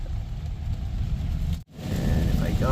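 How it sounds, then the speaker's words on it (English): Heavy rain pounds a Tesla Cybertruck as it drives through an Alabama downpour, a dense steady roar of rain and road noise with a brief dropout near the middle before the wash of water returns. "Lots of rain still."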